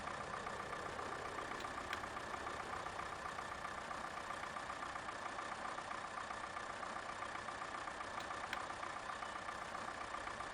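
Tractor engine in Farming Simulator 15 runs at a steady idle, a constant mid-pitched mechanical drone that stays even and unbroken throughout with no talk over it.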